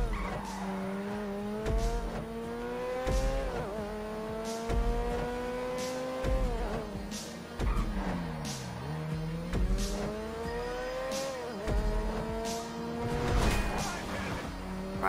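Cars racing in the video game GTA 5, with engines revving up and down through gear changes, repeated tire squeals and skids, and loud, close, continuous motor noise.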